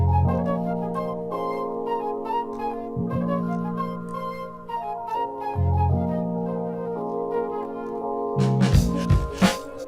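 A hip hop beat still being built, where a deep, gritty bass line moves through sustained notes under crisp, ticking hi-hat patterns and layered melodic parts, steady and loud with a busier burst of drums at the end.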